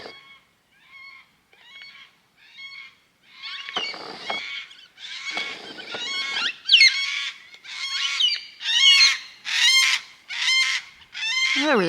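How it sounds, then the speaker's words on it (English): A flock of cockatoos screeches nearby in a series of harsh, raspy calls that start faint and sparse and build into loud, overlapping squawks repeating roughly every second. "cockatoos are coming."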